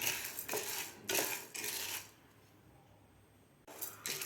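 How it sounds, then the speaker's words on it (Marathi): Dry-roasted dal being stirred in a pan over medium heat, a few loud metallic scrapes and clinks of utensil on pan separated by a quieter stretch, close up with no voices. "एकसारखं याला हलवत राहायचं आहे, म्हणजे मग व्यवस्थित सगळी डाळ सारखी भाजल्या जाते"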